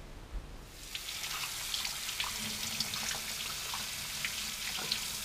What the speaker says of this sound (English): we're going to just wet them down, put some water over them, peel the skin off of it